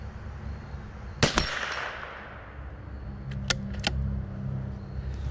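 A .22LR rifle firing supersonic Cutting Edge bullets outdoors: one sharp crack with a short trailing echo, followed moments later by a few quick metallic clicks and clacks of the bolt being cycled.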